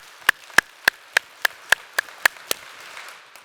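An audience at a business talk claps together in unison, nine or ten sharp, evenly spaced claps at a brisk steady beat, loud and close, then a faint murmur as the rhythm stops.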